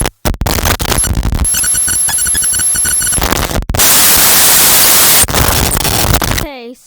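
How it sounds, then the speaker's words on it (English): Glitch sound effect built in Audacity: a loud harsh burst of stuttering choppy noise with a thin whining tone, cut by sudden dropouts, then a wash of static hiss ending in a short warbling sweep. "so I will be making a glitch sound like this on Audacity"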